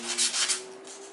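An old plastic card is sanded into a guitar pick, giving quick rough rubbing strokes of abrasive on plastic, close and fairly loud, with a steady low hum underneath.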